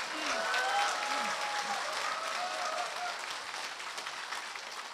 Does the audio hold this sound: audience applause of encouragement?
yes